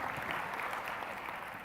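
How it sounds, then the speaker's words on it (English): A national conference audience gives steady, moderately loud applause for the organisers, a continuous patter of clapping with no talk over it. "A round of applause to the organisers again"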